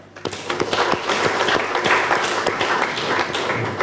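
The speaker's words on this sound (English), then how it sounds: "Let's give them a round of applause." An audience applauding at a university conference, a burst of dense overlapping claps that rises quickly and holds steady for a few seconds.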